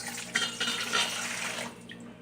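Warm water pouring steadily into a mixing bowl, a continuous close splashing rush that tapers off near the end, with no voices.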